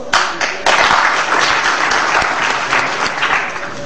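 Audience applause at a Romanian-language gathering, dense sustained clapping from a crowd filling the room, loud and steady with small surges throughout.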